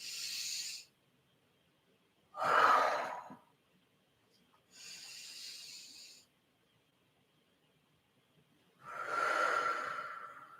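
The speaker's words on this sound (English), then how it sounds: "Let's do 3 inhales and exhales" Slow, deep breaths alternate in four close, breathy bursts: airy inhales and heavier, rougher exhales, each a second or two long, separated by stretches of near silence, with no talking.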